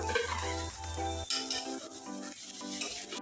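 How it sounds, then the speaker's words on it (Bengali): Broccoli and chopped carrot are lightly fried and stirred in a pan, a soft sizzle broken by scraping strokes of a spatula against the metal, fairly quiet. "ব্রোকলি আগে দিয়ে দেব এটা একটু হালকা করে ভেজে নেব"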